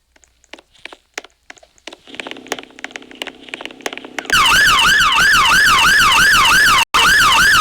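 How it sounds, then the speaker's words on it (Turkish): Scattered clicks and a low hum give way to a loud wailing siren that rises and falls rapidly and steadily, cutting out for an instant near the end. "Sireni çalıştır."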